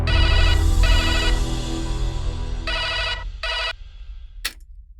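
A telephone rings loudly in repeated bell-like bursts, with two rings followed by a pause and two shorter rings, then a sharp click as it cuts off, alone over a low background hum.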